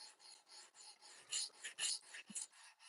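A knife blade is drawn repeatedly across a stone on a fixed-angle sharpener, grinding a new bevel on hard 14C steel; steady, close rasping strokes repeat rhythmically, soft and dry, with no talk.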